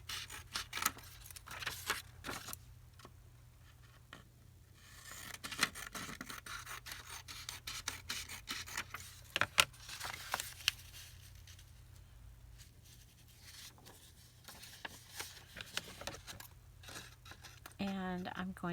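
Scissors trim paper for a junk journal belly band, with frequent close snips and rustling paper handling spread over a long stretch and talking heard throughout.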